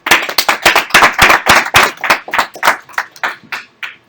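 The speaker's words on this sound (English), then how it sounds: "So let's all give him a round of applause." Audience clapping for an invited speaker at a talk, irregular claps that are loud and close at first, then thinning out and fading over about four seconds.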